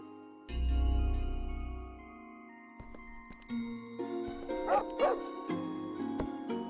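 A dog in a video game barks and yips several times after a deep rumbling swell, the sharp barks clustering near the end over a quiet musical drone.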